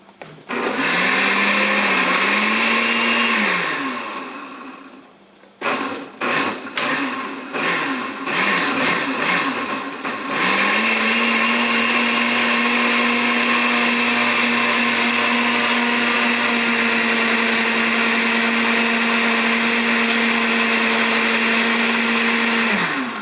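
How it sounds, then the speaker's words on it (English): Kitchen blender pureeing onion, garlic and tomato as a base for Mexican rice: a loud, steady motor whine that runs, stops briefly with a few stuttering pulses, then resumes and holds a constant pitch to the end. "I'm going to go ahead and put that on the blender."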